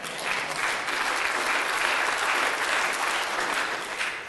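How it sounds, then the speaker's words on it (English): A room full of churchgoers clapping their hands together, a thick, even wash of applause that holds steady and then tapers slightly at the end. "Give him a hand clap."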